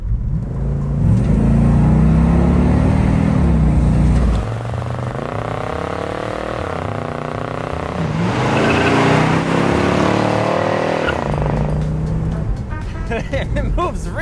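A 1971 Oldsmobile 442 convertible engine accelerating: loud, close revving that climbs through the gears in rising sweeps, dips briefly between shifts and pulls hard again, with a voice speaking over it.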